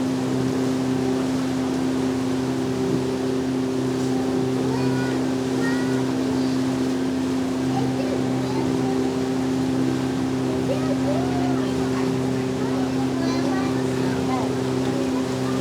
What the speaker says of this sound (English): a great little relaxing boat ride along the Sassagoula River